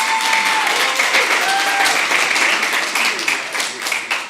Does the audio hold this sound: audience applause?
yes